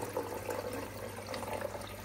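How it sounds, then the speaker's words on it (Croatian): Lukewarm tap water poured into a container for hatching aquarium brine shrimp, a continuous soft trickle and splash at moderate level throughout, with no talk. "Sada ćemo uzeti, dakle, vode i nalit ćemo ovdje."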